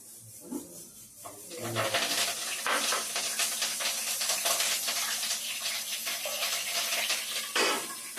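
Spices such as bay leaf, dried red chillies and curry leaves fry in hot oil for a goat legs curry. Soft, continuous sizzling comes with occasional scraping stirs, all fairly faint and without speech.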